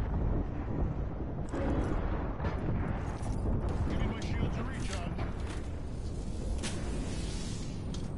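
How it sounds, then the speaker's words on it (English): Airstrike explosions in an Apex Legends match rumble as a continuous low roar with scattered blasts and crackles throughout, while people talk over the barrage. "Airstrike!"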